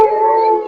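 A single wolf howl, loud and close, one sustained tonal wail that holds steady and then trails off slightly at the end.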